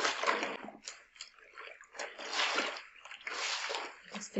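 White towels washed by hand in water, giving uneven bursts of sloshing, wringing and scrubbing that swell and fade several times, close up and moderately loud with no talking.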